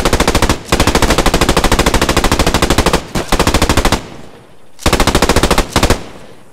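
Rapid automatic gunfire in the World War II shooter Post Scriptum, loud, close bursts of machine-gun fire broken by brief gaps, with a longer burst first, then shorter ones.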